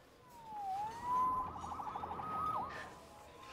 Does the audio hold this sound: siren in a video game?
yes